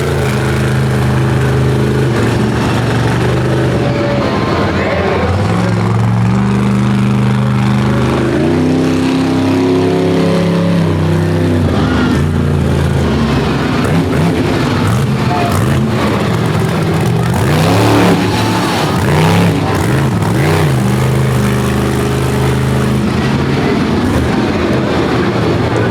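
A monster truck engine roars and revs continuously during a freestyle run at a 2023 Monster Truck Invasion show, loud and sustained with rising and falling pitch sweeps, and crowd and arena noise underneath.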